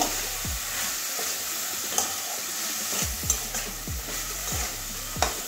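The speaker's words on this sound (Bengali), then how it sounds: "এবারে আবারও ভালো করে সব কিছু কষিয়ে নেব" Banana stem and shrimp stir-fry in a pan under a steady sizzle, with about seven sharp spatula scrapes and knocks against the metal spaced a second or so apart.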